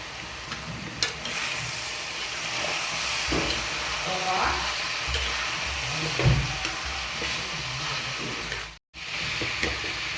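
Raw shrimp stirred into bitter gourd curry cooking in a pan, with a steady close sizzle and hiss, scraping stirs and a brief clatter partway through, and a soft voice in the background.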